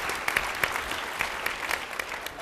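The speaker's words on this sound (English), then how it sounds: "you all owe yourselves a round of applause" Audience applause at a benefit dinner, steady dense clapping from a room full of people with a few sharper claps standing out, continuing throughout.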